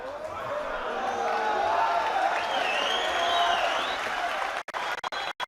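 Crowd at a youth wrestling championship bout cheers and applauds loudly and continuously, a dense swell of clapping and shouts that cuts off abruptly near the end.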